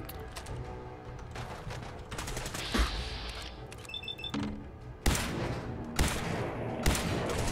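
Institute rifle fire in Fallout 4, with a string of sharp shots and clicks among game sounds, ending in several loud distinct bangs spaced about a second apart.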